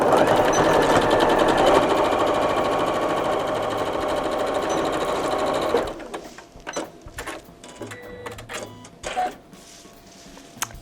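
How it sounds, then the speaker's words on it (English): A Janome Skyline S7 sewing machine runs fast and steady for about six seconds, then stops, leaving scattered clicks and light handling noises. "the sewing machine that I'm sewing on is a Janome Skyline S7"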